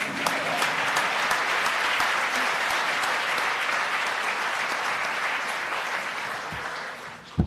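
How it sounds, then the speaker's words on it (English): A conference audience breaks into steady, full applause that holds for several seconds before thinning out at the end. "Applause, please."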